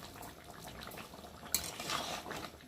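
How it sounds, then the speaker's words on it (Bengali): Chicken curry with sugar boiling in a pan makes a quiet, continuous bubbling simmer, with one brief utensil tap partway through. "দিয়ে একটু ভালো করে ফুটিয়ে নেবো, যেহেতু চিনিটা দিয়েছি তো"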